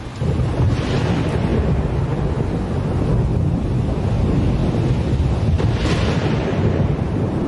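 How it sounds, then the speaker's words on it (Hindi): A storm on Mars in an animated film roars with loud, continuous wind and rumbling, steady throughout with a few stronger gusts swelling and no talk. "हम मार्स पर ही पले बड़े हैं, लेकिन कभी ऐसा तूफान नहीं देखा।"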